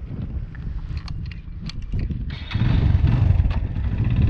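A Suzuki GS 150 motorcycle rolls along at slow speed, around 10 to 12 km/h, its low engine putter steady and close, with wind noise over it and a slight rise in rumble partway through.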